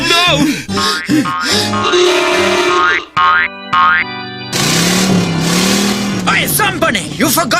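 A cartoon stolen car driving off, with springy boing effects, cartoonish vocal grunts and revving engine sounds mixed with music, including a sustained rising engine drone in the second half.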